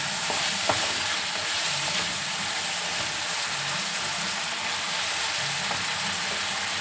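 Tomatoes fry in a pan for a stuffed brinjal masala, with a steady, dense sizzle that holds at one loud level throughout. No voice is heard over the cooking.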